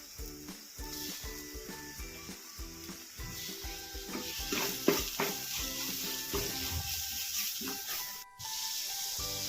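Chopped tomato and browned onions sauté in a hot pan for beef curry, giving a steady loud sizzle broken by repeated scraping and stirring knocks from a spoon.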